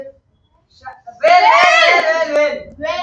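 Someone shouts and wails loudly in a classroom during a lesson, a sustained high, strained cry with a short burst after a pause, following quiet at the start.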